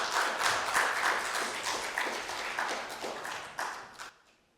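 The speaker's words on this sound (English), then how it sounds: "one more round of applause for Kes." An audience at a high school poetry showcase claps after a reading, a moderately close patter of many hands that gradually thins and stops abruptly near the end.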